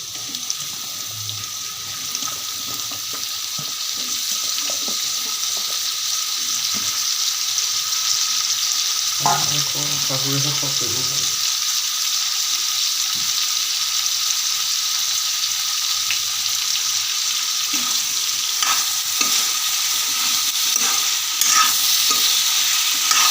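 Pumpkin and potato pieces fry alongside duck meat in a pan, a steady close sizzle running throughout with a brief burst of scraping and stirring partway through.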